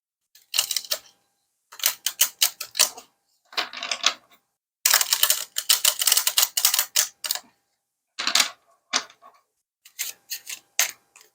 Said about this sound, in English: Gonna give it a few shuffles.